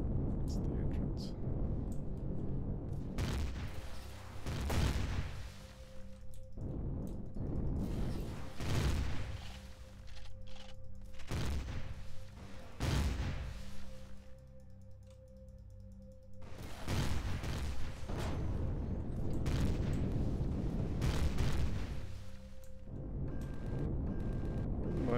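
Turret gunfire and explosions rattle and boom in the space game Empyrion during an attack on pirates, with repeated bursts of fire and heavy blasts over a constant low rumble and someone talking through much of it.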